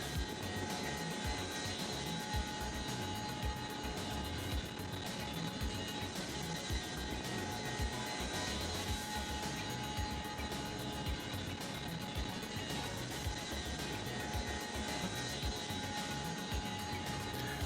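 A helicopter flies in a VR game, a steady, fairly faint droning whir that holds unbroken throughout, with no talking.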